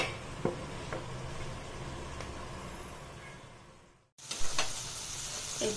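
Malabar spinach cooks in a covered pan, giving a steady soft sizzle and hiss with occasional faint ticks, briefly cutting out before resuming with a few small clatters.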